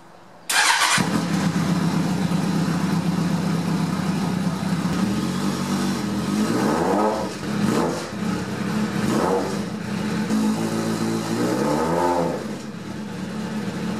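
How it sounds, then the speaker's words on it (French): A motorcycle with its exhaust removed starts abruptly and idles loud and raw, then is revved several times in rising and falling bursts, harsh and close, with no talk. "on peut pas s'empêcher de la faire rouler sans exhaust pour savoir comment ça sonne"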